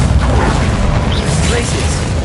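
Confringo fire blast spell in the Hogwarts Legacy video game, a loud dense burst of crackling, booming energy filling the whole moment, with a voice speaking over it.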